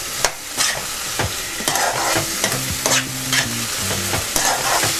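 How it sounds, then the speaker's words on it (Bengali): Potatoes frying in oil in a pan for Bengali masoor daal tarka, stirred with a spoon: steady close sizzle with repeated scraping strokes and clinks against the pan, loud and continuous. "একটু নেড়ে দিচ্ছি।"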